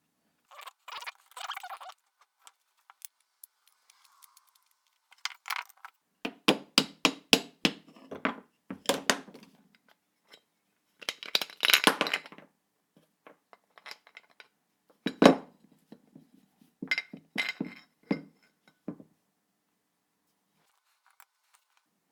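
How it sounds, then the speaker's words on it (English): Scattered bursts of light metallic tapping and clicking come from a close workbench while the bearing is worked out of an NEQ-6 Pro telescope mount, broken up by quiet pauses. "I just had to give it a bit of just a gentle tap, and that bearing came out"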